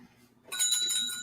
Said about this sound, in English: ding the bell